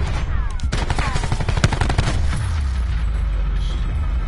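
Rapid video game shooter gunfire, bursts of loud close shots and automatic fire crowding the first two seconds, then a lingering rumble and ringing tail.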